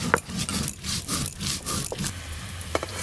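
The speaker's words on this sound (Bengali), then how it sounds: "পোস্ত, চালমগজ আর কাজু বাদাম একসঙ্গে বেটে নেবো।" Poppy seeds, melon seeds and cashews are ground together into a paste by hand on a stone. It sounds like a steady, rough, rhythmic scraping and rubbing, close and fairly loud, with a few sharper clicks.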